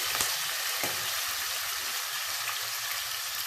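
Beef sizzling and frying in hot oil for a brown beef stew, a steady loud crackle with faint stirring bumps, no talking.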